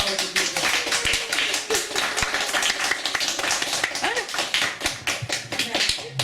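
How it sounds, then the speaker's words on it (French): A church congregation claps together during a joyful Sunday service, with dense, steady handclaps filling the clip and voices faintly mixed in beneath. "Applaudissez la parole de Dieu."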